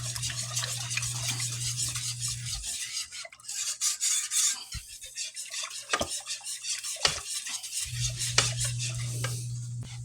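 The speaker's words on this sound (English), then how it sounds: "And then we're going to whisk this back up." A whisk scrapes and stirs steadily through thick homemade barbecue sauce with molasses in a pot, with a dense rasping clatter close by and a few sharp knocks against the pan.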